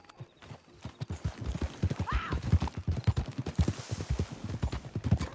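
Horse hooves clip-clopping in a steady galloping rhythm while riding in Red Dead Redemption 2, close and continuous, with a brief whinny partway through.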